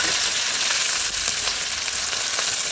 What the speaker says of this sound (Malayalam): അതായത് നമുക്ക് കരിവേപ്പില ഇട്ട് കൊടുക്കാം.